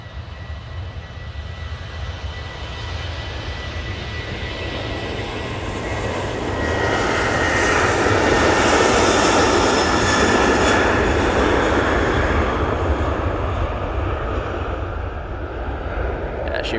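Sun Express and Ryanair airliners at Manchester Airport, a loud continuous jet engine roar that swells toward the middle and eases off slightly, with no words spoken over it.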